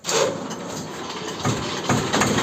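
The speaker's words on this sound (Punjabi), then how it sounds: "ਮੇਰੇ ਭਰਾ ਨੇ ਹੁਣ ਟਰੈਕਟਰ ਸਟਾਰਟ ਕਰ ਲਿਆ" A tractor engine running just after starting, a close, steady low rumble of idling with a couple of slight surges in the short stretch.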